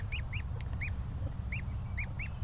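Young goslings give repeated high, thin peeps in quick bursts, near and clear over a steady low rumble in the background.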